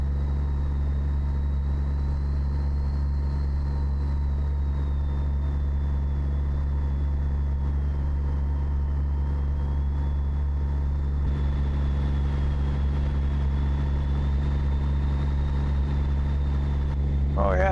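A truck engine in American Truck Simulator holds steady at 1400 RPM at 75, giving a constant low diesel drone with a faint whine above it, loud and unchanging throughout, with a brief burst of other noise at the very end.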